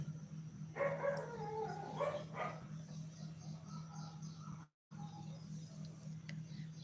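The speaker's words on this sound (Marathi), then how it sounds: "कसे ओरडतात कुत्री" A faint dog howl rising and falling, with softer barking from other dogs in the distance over a steady low hum.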